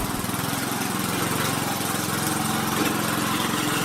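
A Hahn Eclipse 22-inch self-propelled lawn mower engine runs steadily close by, a loud, even, buzzing drone with a rapid pulsing beat and no talk over it.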